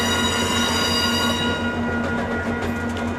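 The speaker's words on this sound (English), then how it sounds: "Here goes Via Rail Train number 88 with 6407 J Train." Via Rail passenger train number 88 hauled by locomotive 6407 rolling past close by, a loud continuous rumble of wheels with a steady tonal whine, fading slightly as it goes.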